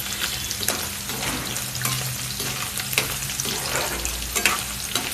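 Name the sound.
paneer frying on a high gas flame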